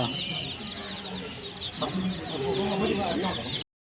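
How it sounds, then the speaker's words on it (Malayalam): Several chickens cluck and chatter close by, with soft low murmurs underneath and a steady busy backdrop of other birds calling. "കോഴി ഉണ്ട് കളർ കോഴി ഉണ്ട്"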